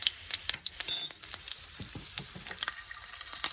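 Pinch of asafoetida and red chili powder hitting hot tempering oil off the heat for sarson ka saag, a close, bright sizzle with crackling pops across the whole moment.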